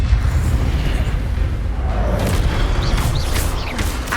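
Incendio fire spell cast in the Hogwarts Legacy video game, a loud rumbling blast that roars steadily, with short whooshing magical effects layered on top near the end.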